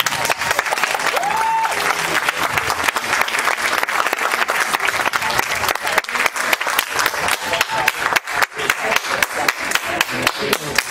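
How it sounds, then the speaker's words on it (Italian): Sustained audience applause at an Italian music and spoken-word event, a thick, even roar of many hands clapping, loud and close, with a brief whistle early and a few sharper individual claps near the end. "Facciamoci un applauso."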